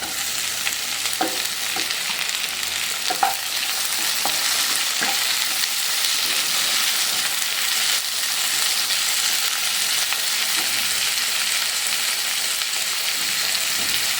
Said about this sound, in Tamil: இப்போ தக்காளி பழம் சேர்த்துக்கணும்